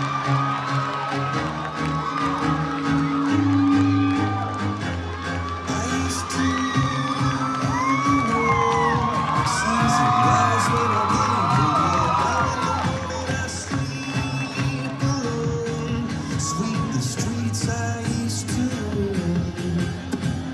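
An audience at the Oni Con 2009 convention cheers, whoops and yells continuously, a loud, sustained crowd roar with shrill shouts rising and falling across the room.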